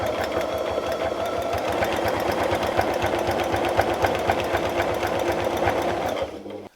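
A sewing machine quilts around an appliqué butterfly, a close, loud, rapid rhythmic chatter of stitching that runs steadily and cuts off abruptly just before the end.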